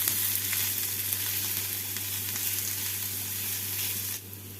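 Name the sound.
chopped onions frying in oil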